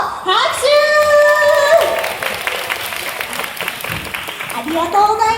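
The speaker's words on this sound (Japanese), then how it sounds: "拍手。" An audience claps at a character mascot stage show held at a market in Funabashi, Japan. The applause is a steady wash under music and an announcer's voice.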